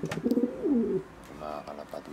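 Pigeons cooing close by, a few soft low throaty coos in quick succession within a couple of seconds, with someone speaking over and after them.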